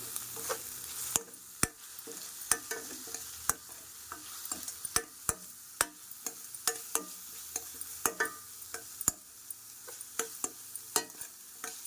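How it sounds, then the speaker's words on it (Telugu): Onions with salt and turmeric sizzle softly in a pan for a cashew-makhana curry, while a spoon scrapes and stirs them in sharp, irregular clicks. The cooking is close and quiet, with no talking. "ఆనియన్ అయితే చాలా బాగా వేగాలండి."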